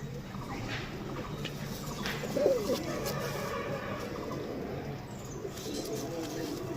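Rampuri pigeons, a pure-bloodline pair, coo softly in a brief low burble amid steady background murmur and faint voices.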